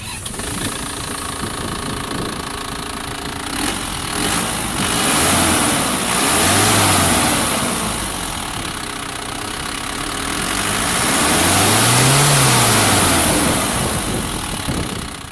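An Isuzu Panther's 4JA1 2500cc inline-four turbo diesel idles with a steady clattering knock, then revs up twice in smooth swells and settles back, loud and close.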